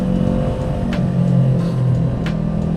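Close up, the engine of a QJMotor SRT450RX motorcycle holds a steady, loud idle-like hum with mild revving swells and no talking.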